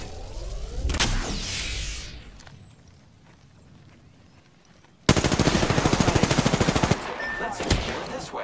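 Rapid automatic gunfire in a shooter video game: a short burst early on, then after a quiet lull a loud, steady stream of rounds lasting about two seconds, followed by scattered shots.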